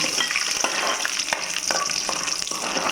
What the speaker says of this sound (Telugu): ఇప్పుడు ఇదే ఆయిల్లో కొద్దిగా వేరుశనగ గుళ్ళు వేసి వేయించుకోండి.